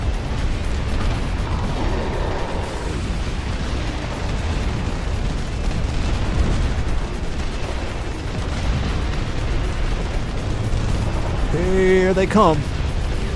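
Artillery batteries in the real-time strategy game Dust Front RTS fire salvos, heard as dull booming bursts under steady battle noise while someone talks over them.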